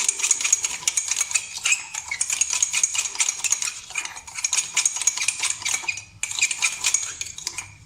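A spoon clinks and scrapes steadily against a cup while stirring coffee and sugar into a creamy mixture, a rapid continuous metallic rattle close up with one brief pause.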